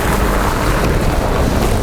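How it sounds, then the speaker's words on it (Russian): Gusty spring wind of about 11 to 20 metres per second buffets the microphone on a gravel bike coffee ride in Russia, a loud, steady roar that fills the whole stretch with no voices. "Ветер сегодня порывистый, от 11 до 20 метров в секунду."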